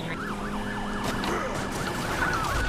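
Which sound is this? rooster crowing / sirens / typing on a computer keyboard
sirens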